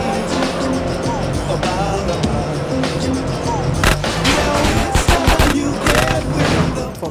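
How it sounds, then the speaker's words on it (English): A car engine roars continuously with tire noise and scattered gunshot-like pops, loud and close, in a Grand Theft Auto: San Andreas driving scene. "Carl, just concentrate on the driving, and we'll take care of the shooting."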